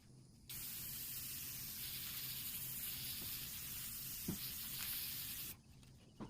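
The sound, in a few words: aerosol acrylic sealer spraying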